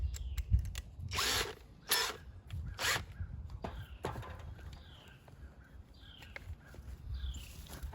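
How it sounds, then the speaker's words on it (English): A power drill with a step bit enlarges a drain hole in a hobo stove being converted into a fire table, giving short, close whirring bursts separated by brief pauses and small mechanical clicks. "Got a step bit here."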